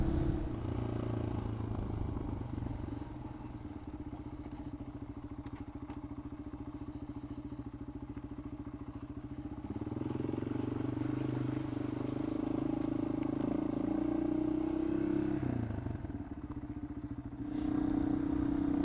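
A Yamaha XT225 small-bore dual-sport motorcycle rides a dirt road, its single-cylinder engine droning steadily with shifting pitch as it revs up midway, with rattles and thumps from the rough surface.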